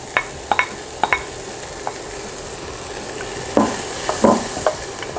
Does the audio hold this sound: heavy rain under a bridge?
no